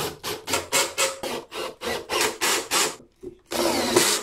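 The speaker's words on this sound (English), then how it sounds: "when I drive these pocket hole screws in, this piece won't drive over too far" A power drill drives pocket hole screws into wood while building a baby changing unit, giving a run of roughly ten short, loud, evenly spaced whirring bursts, a brief pause, then one longer sustained buzz up close.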